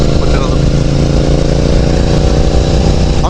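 A Benelli TNT 600i motorcycle, a non-ABS variant with a BS3 engine, runs steadily and loudly up close, its dense low engine rumble continuous throughout with voices faintly underneath.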